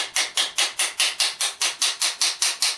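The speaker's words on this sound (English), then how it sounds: "So now I can get the second pin, tap that in place." A small soft hammer taps a metal pin into knife handle scales, about a dozen crisp, evenly spaced knocks close by, each sharp strike fading quickly, with no talk.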